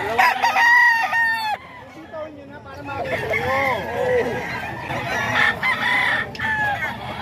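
A fighting rooster crows loudly and close in a Tondo gamefowl setting, with a second crow following after a brief pause, set against crowd babble and nearby talking.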